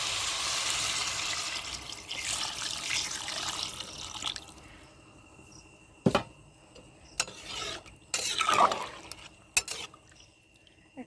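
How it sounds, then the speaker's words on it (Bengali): Water streams into a pot of broken rice for biryani, a steady pouring wash that stops, followed by scattered clinks and scraping stirs close up. "ভালো করে মিশিয়ে জল দিয়ে দেব।"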